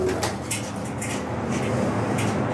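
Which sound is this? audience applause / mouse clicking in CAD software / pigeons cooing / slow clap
pigeons cooing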